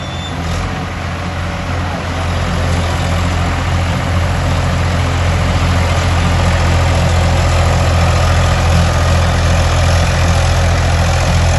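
A 55 HP tractor engine idles with a steady low rumble and chug, loud and close, unchanging throughout with no voices.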